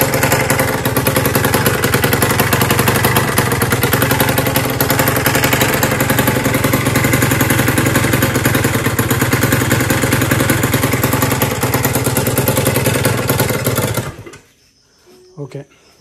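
Shaolin engine idling right after its first start, a steady loud mechanical clatter running continuously for about fourteen seconds before cutting out abruptly, followed by near silence and a few faint knocks.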